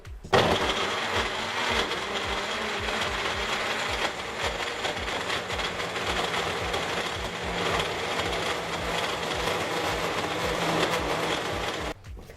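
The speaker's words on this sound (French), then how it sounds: "moi, je vais utiliser mon Magic Bullet, mais vous pouvez utiliser un mélangeur normal ou un batteur électrique" A Magic Bullet blender whirs continuously for about twelve seconds, mixing homemade shower gel ingredients, with a steady close motor drone that stops abruptly at the end.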